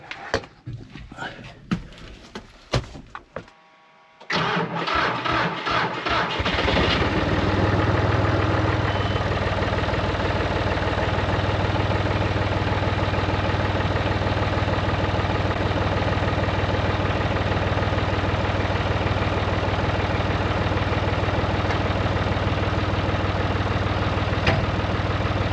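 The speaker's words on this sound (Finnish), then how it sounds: "Niin sopi traktori lämmetä sillä aikaa." A tractor, called a jontikka, is started on a cool day and left idling to warm up. A few seconds of rough noises come first, then a steady, loud, low engine drone holds to the end.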